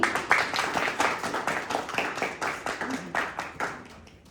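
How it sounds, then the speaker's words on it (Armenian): Audience applause greets a children's choir at a concert in Artashat. A dense, steady patter of many hands clapping fills the hall for several seconds, then thins slightly toward the end. "Եկեք ծափ ողջույններով դիմավորենք մեր սաներին։"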